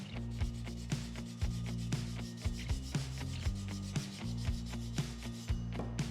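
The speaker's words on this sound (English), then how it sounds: "I'm gonna sand that really quick" Hand sanding a spoke of a Porsche 996 three-piece wheel with 320 grit sandpaper, a steady close scratchy rubbing with repeated back-and-forth strokes and faint low mechanical hum underneath.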